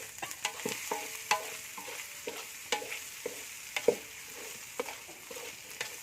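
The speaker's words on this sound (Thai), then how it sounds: "คั่วไปเรื่อยๆค่ะใส่ใบกะเพราไปเรื่อยๆค่ะ" Holy basil leaves being stir-fried in a hot pan, a low sizzle broken by repeated scraping and clattering strokes of a spatula, close and fairly quiet, with no voices.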